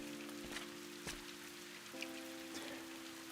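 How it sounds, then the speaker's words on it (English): Rain in the puzzle video game Viewfinder, a steady soft hiss of falling drops with a few slightly louder taps, heard under sustained, humming background tones. "the rain was coming through for a sec"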